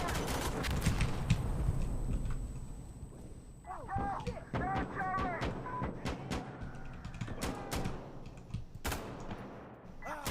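Rapid gunfire from the Insurgency: Sandstorm video game, a dense run of sharp shots and short bursts spread across the whole stretch, with a player's voice talking over parts of it.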